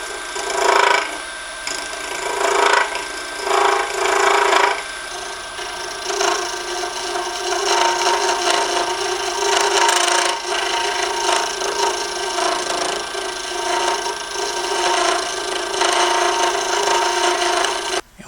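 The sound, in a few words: lathe scraper smoothing a wooden tool handle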